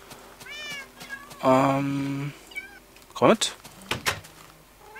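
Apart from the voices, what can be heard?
cat meowing in video game Minecraft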